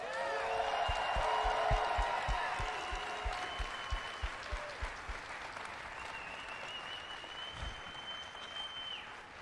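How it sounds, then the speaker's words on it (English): A large convention crowd at BlizzCon 2013 applauds for Kent Eric Hagman, with rhythmic clapping, scattered whoops and cheers rising and then slowly fading, heard from some distance in a big hall. "give a big round of applause for Kent Eric Hagman"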